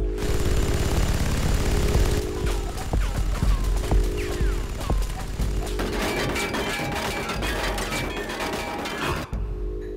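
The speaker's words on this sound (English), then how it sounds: "using manual override, they are able to fire on the Hulk" Naval guns fire repeatedly on a derelict hulk during a fleet exercise to sink a destroyer. Loud, dense bursts of booming shots and sharp cracks overlap across the whole stretch, with heavy low rumble between volleys.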